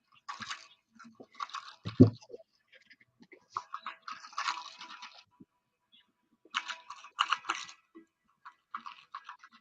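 A small dog chews a toy nearby, making irregular clicking, crunching bites in short bursts separated by pauses, fairly quiet against a still indoor background.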